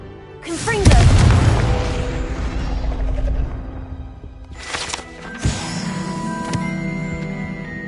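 A Confringo fire spell in Hogwarts Legacy, fired by a player, bursts with a loud, deep boom and then rumbles away into a long crackling decay. A second, sharper blast follows, and a shouted voice is heard as the spell is cast.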